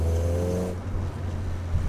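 A 1996-2000 Honda Civic EK with a K24 engine swap drives along, its low engine drone steady and close, with a brief higher whine fading early on.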